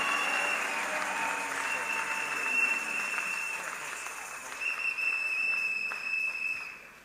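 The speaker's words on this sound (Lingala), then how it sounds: "Acclamons très fort." A church congregation applauds and cheers loudly and continuously, with a shrill whistle cutting through the clapping and the crowd noise easing off near the end.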